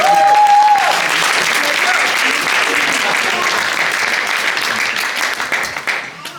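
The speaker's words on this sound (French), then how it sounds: "On peut l'applaudir." An audience at a wedding claps loudly and steadily, then the applause gradually thins out and fades toward the end.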